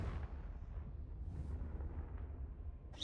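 Confringo blasting spell in the game Hogwarts Legacy, a deep rumbling explosion with a low boom that fades, followed by a faint hiss and crackle, quiet overall and without talk.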